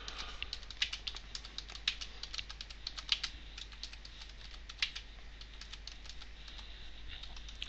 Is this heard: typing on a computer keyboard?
yes